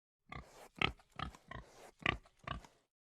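Pigs grunt in six short, evenly spaced snorts, close and moderately quiet, with silence before and after.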